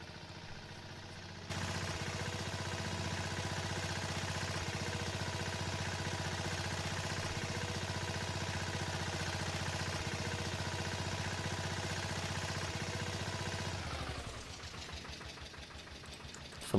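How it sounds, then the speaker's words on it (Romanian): A tractor engine in Farming Simulator 22 turns over and settles into a steady, loud idle that runs evenly for many seconds before cutting off abruptly near the end, with no voices. "Hai să dăm o cheie la tractor."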